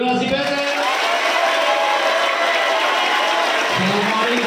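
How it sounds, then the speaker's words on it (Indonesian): Audience at a school motivational event at an Islamic boarding school in Pangandaran claps loudly and continuously, a dense crowd sound with some cheering, and a voice speaking over a sound system. "Tunjukkan tepuk tangan untuk generasi PSM."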